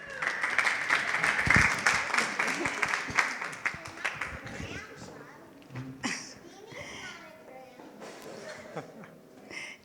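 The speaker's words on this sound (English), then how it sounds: "You can give them a round of applause." Wedding guests at a reception clap for the bride's parents, a dense burst of applause that peaks early and tapers off within a few seconds, followed by scattered crowd murmur and children's voices.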